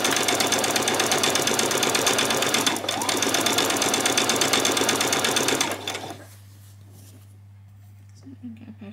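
A sewing machine runs a long straight seam down a skirt placket with a fast, even mechanical whir and needle clatter close by. It stops abruptly partway through, leaving a low hum and a faint voice.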